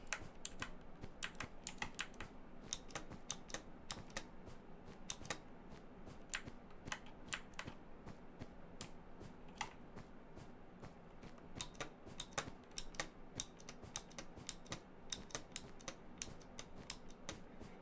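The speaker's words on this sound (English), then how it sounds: "my keyboard is loud" Rapid, uneven typing on a loud computer keyboard, sharp key clacks in bursts with short pauses, close and alone with no talk.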